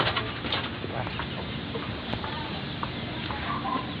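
Dong Tao breeder chickens cluck and murmur nearby in a busy coop, with overlapping soft calls from several birds over a dense farmyard background.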